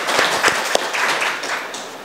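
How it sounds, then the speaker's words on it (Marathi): Audience clapping at an award felicitation ceremony, a short burst of dense applause from many hands that gradually thins out over about two seconds. "पुनश्च टाळ्या वाजवतो"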